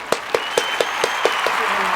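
Audience at a college career day event claps in a slow, evenly spaced series of sharp single claps, fairly close, with a faint voice or tone in the background.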